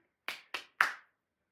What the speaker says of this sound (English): Do you like us clapping?